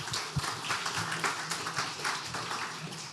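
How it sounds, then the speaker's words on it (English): An audience at a cybersecurity meetup claps after a talk, a fairly quiet, continuous patter of applause from a modest crowd heard at some distance. "Give another round of applause to Jürgen."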